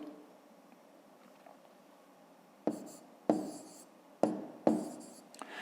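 Pen or chalk strokes writing numbers while working a fifth-grade division problem, several short scratchy marks in the second half after a quiet start, close and fairly soft.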